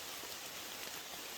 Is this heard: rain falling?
yes